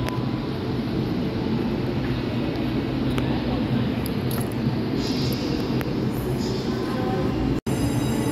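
A train at Taichung railway station makes a steady, loud rumble of rolling wheels and rail noise, heard from beside the track over the whole stretch. A voice talks over it, and a brief dropout comes near the end.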